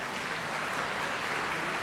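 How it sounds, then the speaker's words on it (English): A steady round of applause from a large audience at a student science prize ceremony at IIT Kanpur, dense even clapping filling the moment. "Let's give him a big round of applause."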